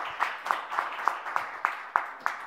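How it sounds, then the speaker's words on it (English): A conference audience at an economics event claps in a steady, rhythmic pattern, with regular sharp beats about every quarter second. The sound is moderately loud and dense and continues without talk. "Round of applause."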